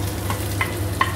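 Chopped onion sautéing in a pan, a steady close sizzle with a few faint stirring scrapes.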